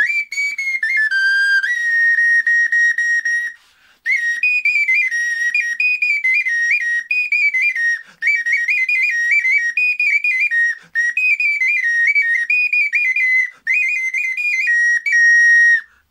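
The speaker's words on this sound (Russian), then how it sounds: "Наши свистульки самые громкие на территории Российской Федерации." A shrill, loud double-pishik clay whistle plays a simple up-and-down tune of bright sustained notes in several phrases, separated by short breath pauses, close.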